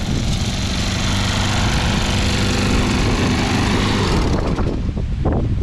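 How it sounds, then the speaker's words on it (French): An old push lawn mower engine drones steadily at close range, a constant buzzing roar that fades slightly toward the end. "la vieille tondeuse qui était là que personne n'avait réussi à réparer"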